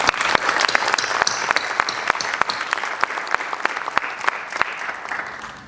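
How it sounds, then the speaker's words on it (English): A crowd at an occupational therapy assistant class ceremony claps in a full round of applause, with sharp individual claps standing out before it tapers off at the end. "Can we give them a round of applause, please?"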